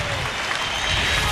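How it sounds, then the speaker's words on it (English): Applause from the crowd at a Cleveland at Chicago baseball game, a steady broadband patter of clapping that fills the whole short stretch without a break. "And a nice round of applause"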